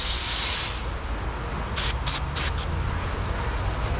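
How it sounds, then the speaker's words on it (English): Aerosol brake cleaner sprays in a broad steady hiss at first, then a few short bursts follow over a low background rumble in a repair shop. "Yeah, let's try some brake clean."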